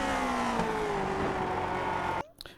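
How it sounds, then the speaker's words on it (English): A Lotus 49 Grand Prix race car engine in the iRacing video game at Le Mans, droning steadily at high revs as the pitch slides down through a downshift before cutting off abruptly near the end. "down to the third gear, but then down to second gear after it straightens up"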